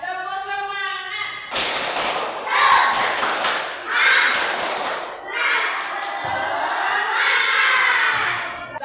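A class of children clapping and chanting together in a rhythmic group spirit clap, with loud bursts of shouting and claps after a teacher speaks briefly at the start.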